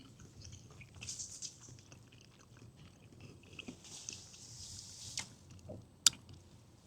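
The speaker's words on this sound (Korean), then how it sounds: "한번 먹어볼게요 제일 양이 작은 빼드락지부터 맛보겠습니다" Close, moist chewing of raw sliced fish at a Masan fish market restaurant, soft squishy bites and crunchy mastication in irregular bursts, with a few sharp clicks and taps.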